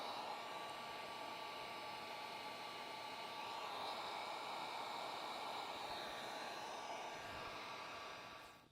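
A heat gun blows a steady, loud, close whooshing roar while shrinking adhesive-lined heat shrink tubing on trailer wiring, holding constant for about eight seconds before quickly winding down at the end.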